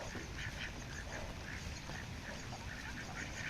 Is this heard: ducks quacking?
yes